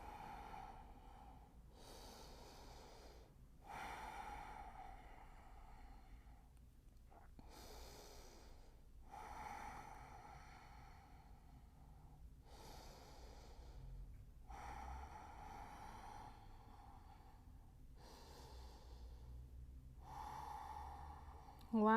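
Slow, steady yoga breathing during a shoulder flow practice, heard as long even inhales and exhales repeating about every two to three seconds, close and soft with a faint hiss between breaths.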